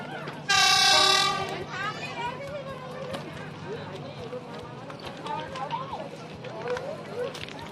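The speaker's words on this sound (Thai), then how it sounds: "รถไฟมาแล้วครับ" A train arrives at Tham Krasae in Kanchanaburi, sounding one loud, long horn blast near the start, followed by a rumbling approach while someone talks over it.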